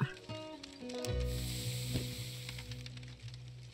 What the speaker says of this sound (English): it is a little bit of meat. So we'll cook that up.